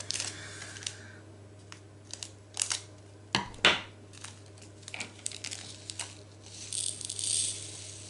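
Scissors snip through a plastic bag of diamond painting drills, giving a few sharp cuts with crinkling plastic and small rattles of the loose drills, close and fairly quiet over a steady low hum.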